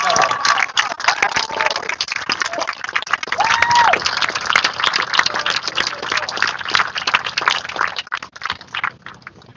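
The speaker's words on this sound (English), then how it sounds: "Give a big round of applause for Sergeant Major Kellogg" Crowd applause at a Vietnam Veterans Day parade opening ceremony, scattered claps building into steady clapping that slowly thins out, heard under a loudspeaker voice talking.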